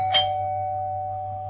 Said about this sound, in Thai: เริ่มมาก็มีคนกดกริ่งหน้าบ้าน